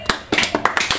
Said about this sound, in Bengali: পূজার জন্য সবাই একটা হাততালি